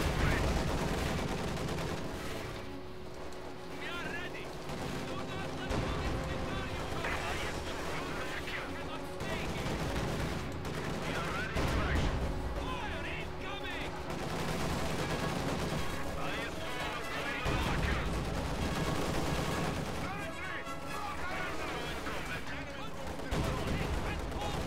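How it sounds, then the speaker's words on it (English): Anti-tank gun fire and scattered gunshots in the Company of Heroes 2 battlefield, with repeated booms and crackling shots over a dense, continuous din of combat, while someone talks throughout. "That's an AT gun."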